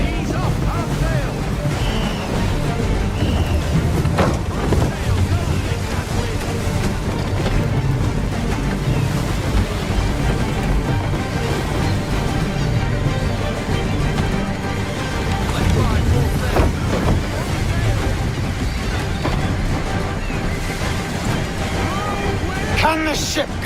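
A sailing ship under full sail in Assassin's Creed III rushes through the waves with continuous surging water and wind noise, loud and close, while voices call out over it.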